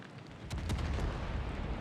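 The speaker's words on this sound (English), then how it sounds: "I've got 3 ships shooting at me." Naval guns boom in a World of Warships ranked battle, with several heavy overlapping blasts rolling over a dense rumbling battle din, loud and continuous with no talk.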